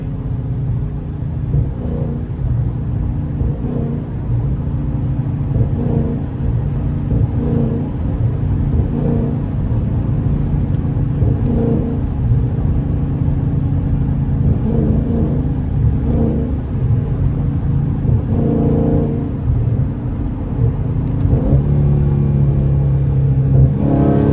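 A Dodge 392 Scat Pack V8 fitted with a loud aftermarket intake rumbles steadily from inside the car. It swells in several gentle rev pulses over a continuous low drone, with no talking.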